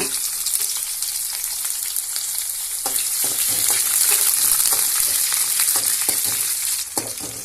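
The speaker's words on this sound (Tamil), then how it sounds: "அடுத்தது கருவேப்பிலை அப்புறம் சின்ன வெங்காயம் போட்டுக்குங்க நல்லா ஜோராக வணக்கிங்க" Curry leaves and small shallots sauté in hot oil with mustard seeds for thuthuvalai rasam, giving a loud continuous sizzle broken by scraping stirs of a spoon.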